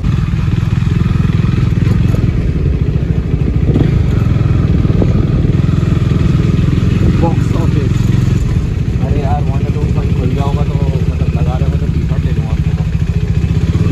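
Scooter riding on a road in Goa during a long-distance trip, a steady loud engine drone with wind rush and rattle throughout, with someone talking over it.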